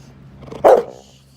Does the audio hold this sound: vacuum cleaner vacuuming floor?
no